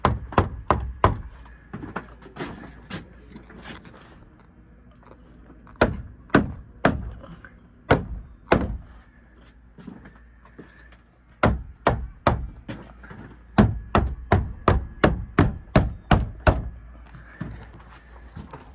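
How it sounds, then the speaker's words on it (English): A plastic Suncast shed panel is tapped down into its channels with a string of sharp, close knocks, some single and some in quick clusters. "we're just going through and tapping this one down into place so that it sits down in the channels"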